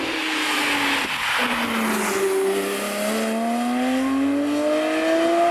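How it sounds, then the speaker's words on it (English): A Porsche 991 Speedster with a manual gearbox revs hard with a metallic rasp, then a throttle blip on the downshift. The engine note climbs steadily and loudly in the cabin, with no one talking over it. "For the last 8 to 9, you get this like metallic rasp on top of that screen, and then blip the downshift"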